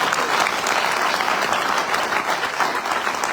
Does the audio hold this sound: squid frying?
no